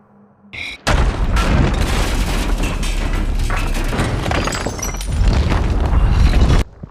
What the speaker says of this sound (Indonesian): tembakan mortar berikutnya membuat gedung hancur cukup parah